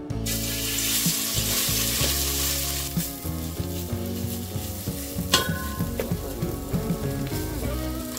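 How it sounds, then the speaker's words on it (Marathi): Grated coconut frying in hot ghee in a pot on a gas stove, giving a loud, continuous close-up sizzle with crackling spikes and occasional stirring scrapes. "याच तुपात आपण खोबरं भाजून घेणार आहोत।"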